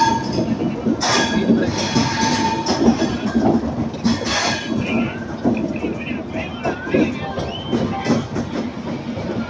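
A passenger train pulls out of Erode station bound for Bangalore, its steady wheel rumble and rhythmic clatter filling the whole stretch at close range, with faint station voices underneath.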